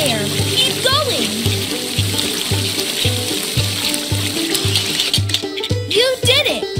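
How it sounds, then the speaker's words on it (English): A water cannon steadily sprays a stream of water in a Paw Patrol video game, a continuous splashing rush heard under a cheerful narrator's voice and a bouncy, rhythmic music track. "Now help Marshall aim the water cannons at the hole."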